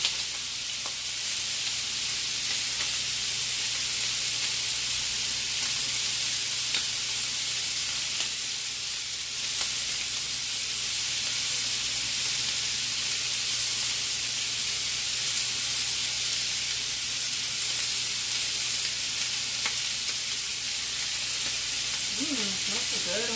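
Ginger and garlic frying with pork ribs in a pan for sticky ribs, a steady, close hiss and crackle that runs unbroken, with a faint stir or scrape near the end.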